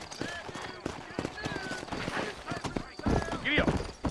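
Horses in the Western video game Red Dead Redemption, with steady clip-clop hoofbeats and several high whinnies rising over the riding, while someone speaks throughout.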